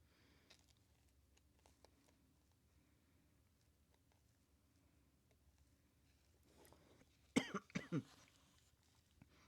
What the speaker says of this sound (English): I like choked on my own spit, so now I'm coughing a little bit.